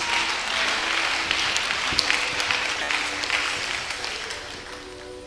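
Church congregation clapping together during a lively worship service, a steady dense wash of many hands that runs evenly throughout with a few sharper claps standing out.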